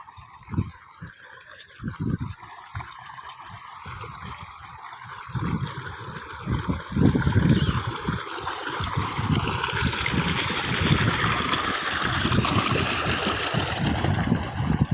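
Water rushing and gurgling through a large, deep village canal in rural Punjab, Pakistan, a steady close flow that grows louder and fuller over time.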